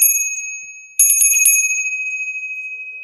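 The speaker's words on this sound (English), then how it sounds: "they use bells for exorcism, chase away demons" A copper bell rings twice, a bright sustained metallic tone fading out, then a second strike with a quick jingling rattle before the long ring decays, close and loud with no talking.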